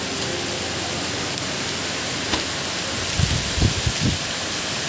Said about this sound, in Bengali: প্রচুর জোরে ঝড় হচ্ছে বন্ধুরা ঝড়ের আওয়াজ শুনুন